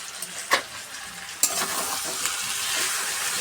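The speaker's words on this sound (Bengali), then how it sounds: "একটু ভালো করে কষিয়ে নিই" Spice paste for a Bengali curry being stirred and fried in a hot kadai, with a continuous crackling sizzle and a few sharp spatula scrapes and clinks against the pan.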